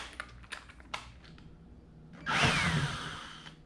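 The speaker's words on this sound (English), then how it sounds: "you take your drill and you start putting holes, making bigger holes" A power drill bores holes into a plastic kayak hull, a few faint clicks and taps first, then a loud close whirring burst of drilling lasting over a second.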